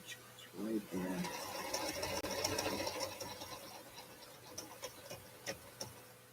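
A sewing machine stitching in a studio, running in a steady rapid mechanical rhythm at close range before slowing, with ticking clicks and background noise.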